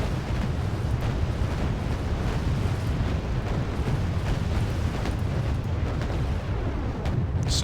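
Anti-ship missiles exploding in the war game Wargame Red Dragon, a dense continuous roar of blasts and rumbling booms filling the whole stretch at steady loudness, no voices.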